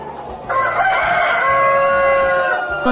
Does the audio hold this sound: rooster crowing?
yes